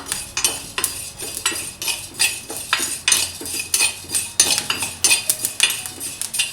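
Fennel seeds are dry roasted in a pan for a mutton chukka masala powder, with a rapid, busy run of metallic scraping and clinking as a spatula stirs them against the pan, close and loud, with no voices.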